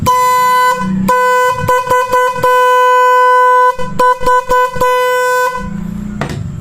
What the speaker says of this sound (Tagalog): ito na po ang gagana ngayon tong loud horn natin